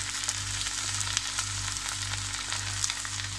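Steady sizzling of zucchini frying in hot oil, with a constant crackle and occasional pops, close by and with no talking.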